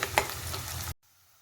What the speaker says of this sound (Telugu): ఇప్పుడు కొంచెం కరివేపాకు కూడా వేసి ఆనియన్స్ బ్రౌన్ కలర్ వచ్చే వరకు వేయించుకుందాం